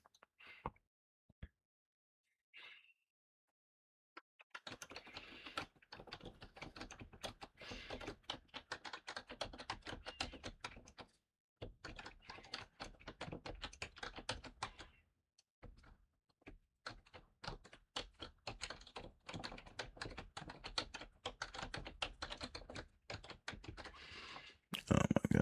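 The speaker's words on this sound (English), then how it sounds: "Oh my god, my typing is horrible." Fast typing on a computer keyboard: dense bursts of clicking keystrokes after a few isolated taps, with short pauses between runs and a heavier thunk at the end.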